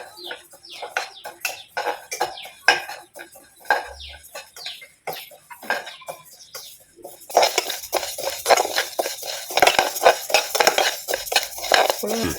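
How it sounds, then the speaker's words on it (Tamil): Parboiled rice dry-roasted in a pan for sambar powder, with a spoon scraping and stirring in irregular close metallic scrapes and rattles of grains; the stirring grows busier and denser in the second half. "அரிசி கொஞ்சம் வறுத்து போட்டுக்கலாம்"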